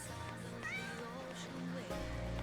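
A cat meows several times in a domestic setting, with rising and falling cries sounding close by, partly overlapping with people talking nearby.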